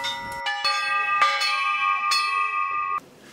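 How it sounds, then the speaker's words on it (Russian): Church bells ringing at a patronal feast of the Myrrh-Bearing Women at a Church of the Nativity, several loud bright strikes in irregular rhythm with long resonant ringing, close, with no voices. "все желающие смогли позвонить в колокола и выразить тем самым радость праздника"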